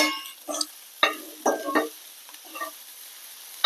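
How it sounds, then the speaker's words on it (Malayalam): Scraping strokes of a spoon stirring grated coconut roasting dry in a pan, several separate scrapes at an uneven pace, close by. "നന്നായി ഇളക്കി കൊടുക്കുക"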